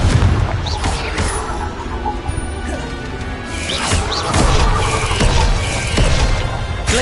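Confringo fire spell explosions in Hogwarts Legacy burst repeatedly amid dense, loud combat noise, with crashes and whooshing impacts layered over a voice shouting spell names.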